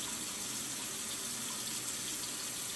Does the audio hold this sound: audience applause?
no